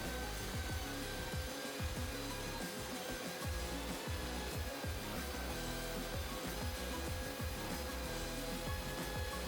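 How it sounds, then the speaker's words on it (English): A disc sander grinds small metal hinge pieces with a steady, dense whirring drone, constant and fairly loud throughout. "Again, this is easily achieved with the disc sander."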